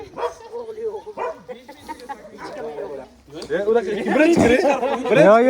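A puppy barks and yips repeatedly in short bursts, getting louder and more excited toward the end, mixed with a person's voice nearby.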